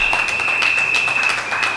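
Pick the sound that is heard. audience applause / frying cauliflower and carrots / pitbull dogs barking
audience applause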